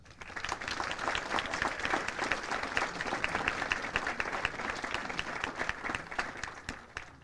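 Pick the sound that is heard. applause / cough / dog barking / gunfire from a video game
applause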